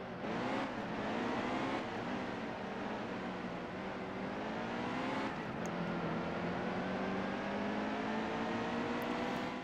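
NASCAR stock cars in the NASCAR Heat 2 video game roaring off at a race start, a steady dense engine drone with rising revs from the pack, loud and continuous without any talking.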